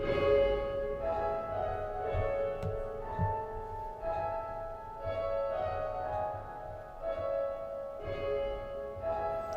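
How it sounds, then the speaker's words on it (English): Piano heard only through its wet reverb: washed-out tones blur into a continuous, echoing wash, the notes smeared and distant rather than crisp, moderately quiet throughout. "all you're hearing is actually the reverb that's being produced by this piano"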